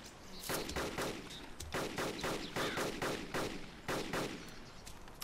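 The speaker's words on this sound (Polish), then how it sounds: "strzały, strzały. Strzały?" Rapid bursts of gunfire in the video game DayZ crackle in irregular volleys, dense and continuous, with shots overlapping in quick succession at moderate loudness.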